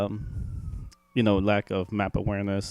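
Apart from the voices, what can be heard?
emergency siren in the background in New York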